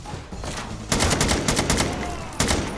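Gunfire in the video game XIII, a rapid clatter of shots starting abruptly with two louder bursts over a low background rumble, and no talking.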